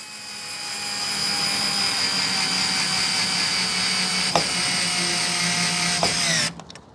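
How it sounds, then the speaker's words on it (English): A Fanttik S1 Pro heavy-duty electric screwdriver whirs in a steady, high motor whine held for several seconds with a couple of brief clicks, then spins down and stops, loud and close with no talk. "It's their heavier duty screwdriver, and really for what it is, it kicks freaking ass."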